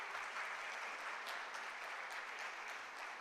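An audience claps at an artist's talk, a faint, steady patter of applause heard from a distance that continues evenly throughout, with no other sound standing out.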